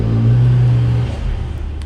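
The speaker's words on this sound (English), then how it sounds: "you want to turn the car off" An Infiniti Q50/Q60 idles with a steady low hum for about a second, then the engine shuts off and the sound drops away to a faint residual rumble. No one speaks.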